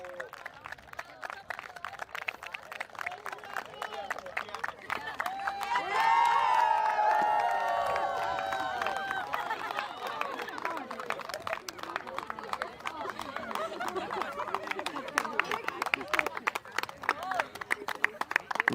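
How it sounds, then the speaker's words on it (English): A crowd applauds and cheers the winning Seattle Thunders women's team at the close of a match against the Hurricanes at the NACC Seattle Women Open tournament. Steady clapping runs throughout, swelling briefly mid-way, with voices talking over it. "Big round of applause to the winners, folks."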